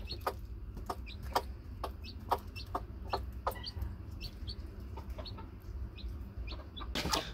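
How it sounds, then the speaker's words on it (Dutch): A mother hen clucks in a steady series of short, close clucks while a chick answers with thin peeps, all against a quiet coop background. "Het kuiken piept gewoon braaf terug."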